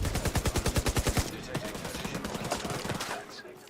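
Rapid light-machine-gun fire in the Division 2 video game, about a dozen evenly spaced shots in a fast burst for just over a second, then quieter scattered rattles and impacts trailing off, set low in the mix.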